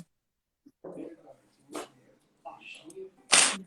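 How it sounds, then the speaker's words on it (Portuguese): A female dog, excited during a video call, gives a few short sharp barks, the loudest near the end, between stretches of people talking nearby. "Estão ouvindo os latidos"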